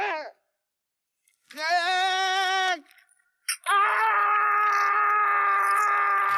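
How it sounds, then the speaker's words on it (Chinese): A man's agonized scream from a Japanese revenge film about school violence, preceded by a brief cry, then a long sustained loud wail of pain, all close and without talk. "小弩听到小胖的惨叫"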